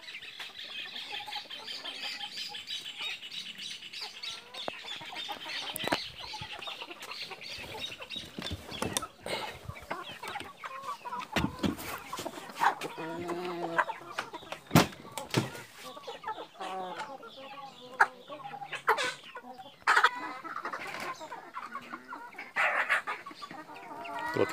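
Several chickens cluck and squawk continuously at feeding time on a farm, with busy overlapping calls and occasional louder bursts, heard up close in a lively coop setting.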